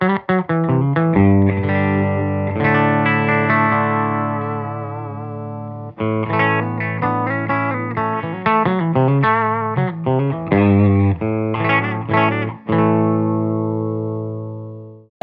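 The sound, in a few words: electric guitar through Mastro Valvola OFF1 octave fuzz pedal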